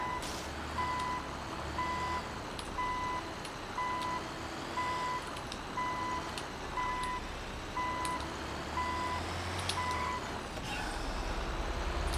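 Truck reversing alarm in the video game Grand Theft Auto V, beeping steadily and evenly about a dozen times at a regular rhythm over a low idling engine rumble.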